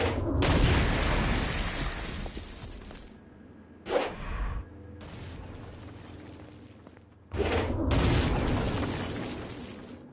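Stone Blast explosions from a superpower in the video game Saints Row: Gat out of Hell, used against flying demons; loud booming blasts with whooshing rumble come in separate bursts, quieter stretches between them.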